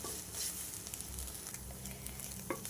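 Steady sizzling with soft scraping as grated coconut is roasted and stirred in a hot pan, continuous and close, with a few sharper clinks near the end.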